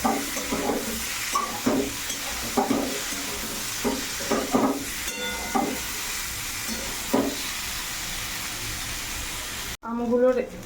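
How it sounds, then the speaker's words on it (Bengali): Turmeric- and salt-seasoned food frying in a pan, a steady sizzle with regular stirring scrapes every second or so, close and moderately loud, cut by a brief pause near the end. "এখন ভালো করে ভাজা ভাজা করুন"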